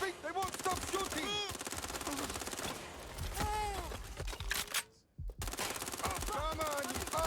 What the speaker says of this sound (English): I think they won't stop shooting